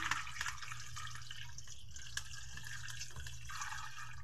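Water poured into a pot holding chicken with garlic, ginger, bay leaf, whole peppercorns and salt, a continuous splashing trickle with drips, close and steady throughout.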